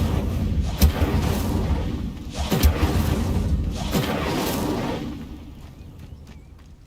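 An Incendio fire spell cast in Hogwarts Legacy: several booming whooshes of flame erupt at intervals over a steady roaring bed, then fade toward quiet by the end.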